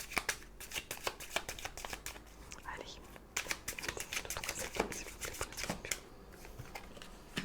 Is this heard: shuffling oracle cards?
yes